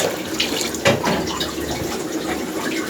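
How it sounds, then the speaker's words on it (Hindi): Water pours into a cooking pot of wheat, barley and spices for haleem, a steady splashing gush close by with a few louder sloshes and clinks, and no talk. "ये जाएगा पानी"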